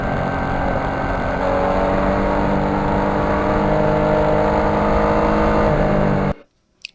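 A 2020 Yamaha MT-09 motorcycle engine while riding on a very hot day, a loud, steady droning roar with wind rush that holds for about six seconds, then cuts off abruptly.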